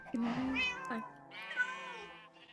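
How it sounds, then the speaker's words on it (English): Minecraft cats meow twice in quick succession, clear and close, with a short pause between the two calls and no talking over them. "There's the kitty cats, Dynamite."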